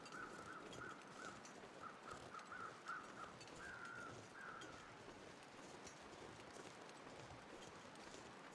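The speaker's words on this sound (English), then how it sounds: "Okay, so I see some crows circling." Crows caw in The Long Dark on a calm day near a farmstead, a faint series of repeated harsh calls in the middle distance over a soft wind-like outdoor ambience, then fading away.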